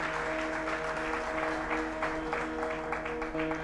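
A crowd claps warmly to welcome a singer from Surat at a Swaminarayan religious discourse gathering in Unjha, the applause steady and dense throughout, with faint musical tones underneath.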